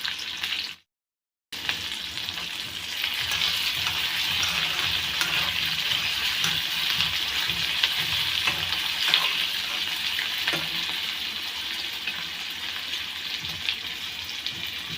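Onion, chili and tomato cooking in a pan, a loud, even frying sizzle that fills the whole stretch after a brief silent gap near the start, with faint stirring scrapes and no talking.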